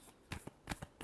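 A few quick, crisp slaps of tarot cards being shuffled by hand, heard close and alone in a brief burst.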